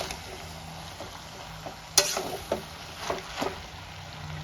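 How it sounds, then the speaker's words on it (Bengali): Mixed vegetables fry in a pan with a soft, continuous sizzle, broken by several distinct scraping stirs of a spatula over about four seconds. "এবার আমি ভালো করে মিক্স করে, এটা কিন্তু শুকনো শুকনো হবে"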